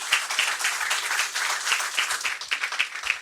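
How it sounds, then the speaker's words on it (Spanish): Moderate audience applause with distinct individual claps follows a conference talk, steady and lively for a few seconds. "Damos un aplauso fuerte."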